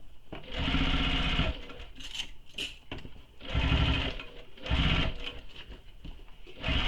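A sewing machine stitches backpack gusset lining in several rapid, loud bursts, each running about a second, separated by short pauses with faint handling clicks between runs.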